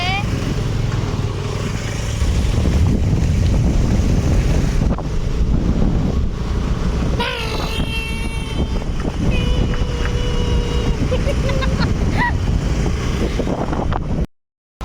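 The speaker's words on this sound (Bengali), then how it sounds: "আমরা এখন সবাই মিলে যাচ্ছি একটু ঘুরতে বাইকে করে।" Strong wind buffets the microphone on a moving motorbike, with a steady engine drone and snatches of talk beneath the roar.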